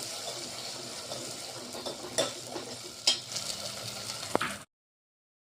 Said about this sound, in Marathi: मसाला आपल्याला दोन मिनटापर्यंत होऊ द्यायचा आहे तेल फुटेपर्यंत